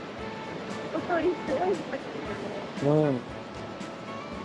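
A steady broadband rush of falling water from a high-volume waterfall in Tokushima roars throughout, with a person speaking briefly over it close by.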